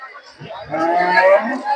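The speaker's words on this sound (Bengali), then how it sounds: "দর্শক এখানে একটা গরু" A bull at a village cattle haat lets out a single close, loud moo that swells and holds for about a second.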